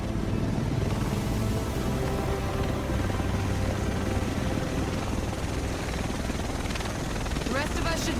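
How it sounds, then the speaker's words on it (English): A helicopter arrives in the video game Tom Clancy's The Division, its steady rotor and engine roar filling the scene loudly and continuously, with voices talking over it. "The rest of us should be in this chopper."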